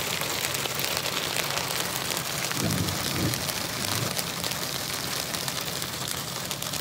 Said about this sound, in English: It's hailing. In the middle of nowhere, hail is falling.